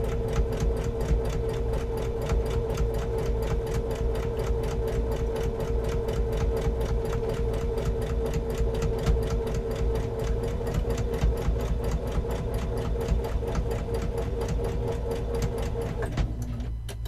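A sewing machine back stitching a quarter-inch seam through fabric runs in one steady, close, continuous whir with a fast mechanical needle rhythm, no voices, and stops just before the end.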